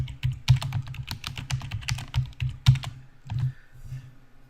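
Keys clatter on a computer keyboard as a password is typed in, with a quick irregular run of close clicks, some strokes sharper than others, before the typing slows and stops.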